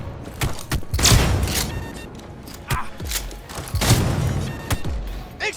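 Gunfire erupts in a Cyberpunk 2077 night firefight on PlayStation, with heavy bursts and booming shots at intervals among thuds and clatter, a voice briefly heard amid the exchange.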